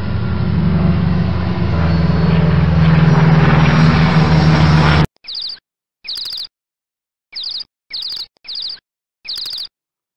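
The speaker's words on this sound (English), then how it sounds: "The plane sound is loud." Loud, steady propeller-plane drone for about five seconds, then it stops abruptly, followed by several short, high bird chirps in an uneven pattern.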